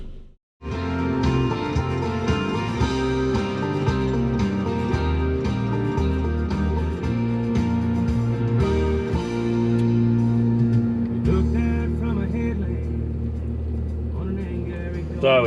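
A car driving through Shepparton, its engine rumbling low and steady from inside the cabin, with a brief dip near the start and a shift in tone later, while people talk over it throughout.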